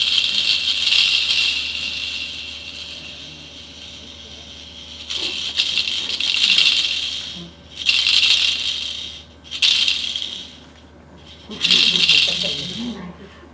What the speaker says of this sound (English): I hear a rattle.